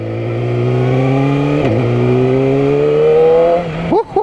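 2019 Yamaha R6 motorcycle with an Akrapovic exhaust, a loud close engine whine rising in pitch through the revs, dipping briefly at a shift, then dropping off into short throttle blips.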